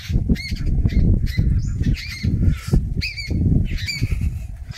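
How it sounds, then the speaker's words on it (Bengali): Birds in the Sundarbans squawking loudly and repeatedly close by, harsh honking calls coming in quick bursts over a busy rumbling outdoor background, with no talk heard. "কি সুন্দর পাখি ডাকছে"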